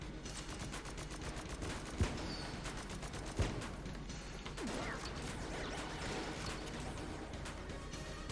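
Enemy shots bursting in the twin-stick shooter Enter the Gungeon, dense rapid game effects with two sharp, loud pops standing out over a constant clatter of firing and explosions.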